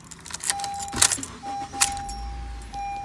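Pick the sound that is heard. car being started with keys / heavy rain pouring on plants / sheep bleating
car being started with keys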